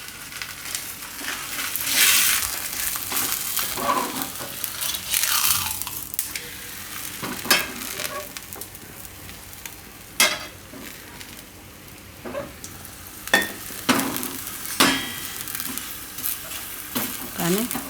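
Spinach and sesame thepla flatbread roasting on a hot griddle, with a steady soft sizzle and irregular scraping and turning sounds from a spatula, close up, with no one speaking.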